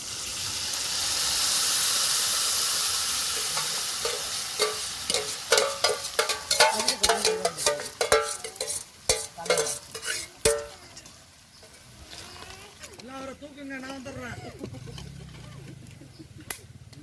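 Curry leaves crackle and sizzle in hot oil with fried red chillies while making Perumal Koil style puliogare, starting as a broad steamy hiss and breaking into dense popping spatters that thin out toward the end, with faint voices nearby.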